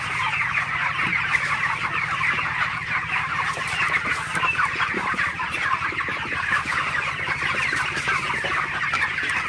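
A large flock of broiler chickens in a poultry shed clucks and chatters continuously, a dense, steady murmur of many birds close by with a low mechanical hum underneath.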